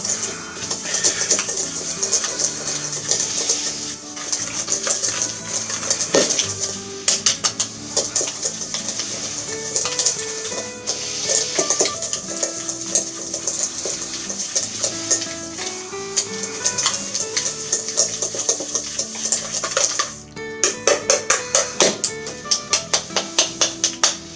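A whisk beats butter and sugar by hand in a bowl, a long run of close, rapid clicking strokes that grows faster and more even toward the end.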